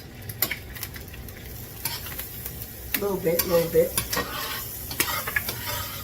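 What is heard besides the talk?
butter and oil frying in cast iron pan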